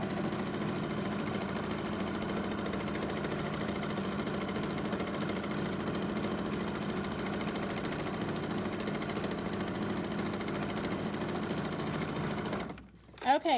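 Sewing machine stitching steadily during free-motion thread painting of fabric leaves, a continuous close mechanical whir running unbroken, then a brief clatter and stop at the end.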